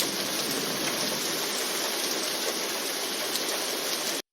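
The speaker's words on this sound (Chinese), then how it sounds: "例如使用下雨的声音" Rain sound effect of steady, even downpour, a dense continuous hiss that holds at constant loudness throughout before cutting off abruptly at the end.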